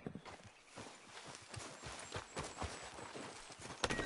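Horse hooves clip-clop at a steady walking pace in Red Dead Redemption 2, a faint, rhythmic series of soft thuds with no other prominent sounds.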